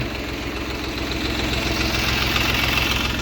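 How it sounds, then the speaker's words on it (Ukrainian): A small tractor without front-axle drive runs steadily while hilling potatoes in a field, its engine giving a constant low, knocking chug that swells slightly louder toward the end, close by with no talk. "Тракторець йде без напрягу, без переднього мосту, під горку чи вниз, немає значення."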